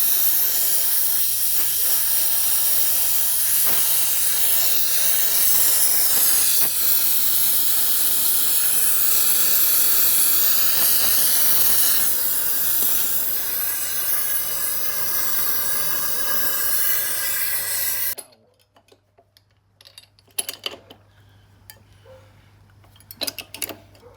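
A cutting torch hisses in a long, steady, loud rush during a Sea Ray 370 Sundancer boat restoration, then cuts off abruptly near the end and leaves a few faint clicks and knocks.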